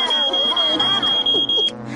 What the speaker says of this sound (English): They make a loud sound that lets you know when there's smoke and fire.